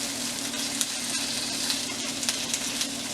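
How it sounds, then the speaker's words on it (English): Shrimp frying in a pan for coconut shrimp, a steady close sizzle with occasional crackles and light scraping from stirring, no talking. "And now I'm going to put my shrimp."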